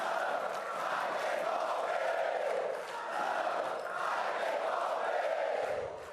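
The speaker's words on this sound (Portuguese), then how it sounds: "vaiaram o deputado da oposição e começaram a gritar em coro" Guests at a ministerial swearing-in ceremony chant together in a loud rhythmic chorus, the crowd's voices rising and falling in repeated waves.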